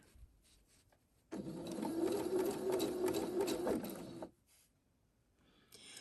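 A sewing machine runs in one steady burst of about three seconds, stitching a quarter-inch seam on quilt block pieces, close and alone between quiet pauses.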